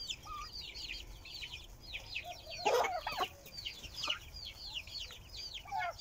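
A mixed farmyard flock of chickens, turkeys and chicks fills the air with close, busy high cheeping and clucking, repeated calls overlapping throughout with a brief louder flurry midway.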